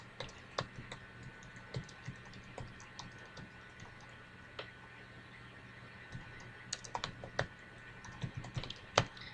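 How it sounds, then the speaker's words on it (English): Typing on a computer keyboard, an uneven run of light, close key clicks that speed up and slow down, with no voices. "then we type our feedback here"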